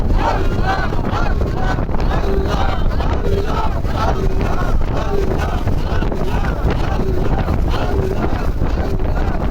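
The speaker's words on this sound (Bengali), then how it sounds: "প্রচণ্ড ঝড় এই বুড়িগঙ্গা নদীতে আমরা প্রায় কাছাকাছি এসে পড়েছি" Strong storm wind blasts across the Buriganga river during a launch trip, a loud, constant roar buffeting the microphone with the faint drone of a boat and distant voices underneath.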